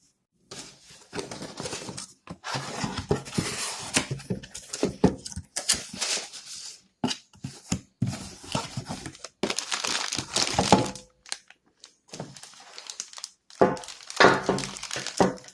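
Packaging around a new high-pressure, high-volume aftermarket oil pump is torn open and handled up close, with bursts of crinkling, crumpling and tearing broken by short pauses.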